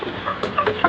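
Close, loud chickens cluck in a few quick, overlapping bursts in a poultry coop.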